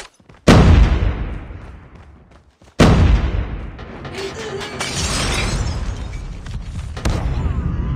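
Two loud, close grenade blasts in Call of Duty Mobile's ranked Hardpoint multiplayer, each a sharp crack with a rumbling decay, followed by continuing gunfire and game noise.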